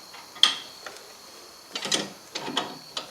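Wrench turning a nut on the front strut of a 2010 Nissan Altima during strut replacement, giving a few short, faint metallic clicks and ratcheting rasps spaced apart in an otherwise quiet space.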